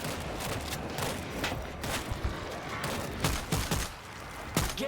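Gunfire in the World War Z video game, a dense, continuous stream of rapid shots and pops at steady loudness, with faint talk underneath.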